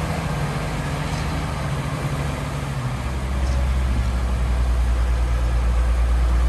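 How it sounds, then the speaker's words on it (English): A 1978 International LoadStar 1850 grain truck idles steadily with a deep, low engine rumble that swells slightly louder partway through, with no voices. "nice running truck"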